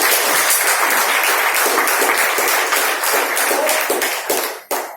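A hall audience breaks into sustained, dense applause for a doctor at a Thane stage event, steady and loud throughout before tapering with a final burst near the end.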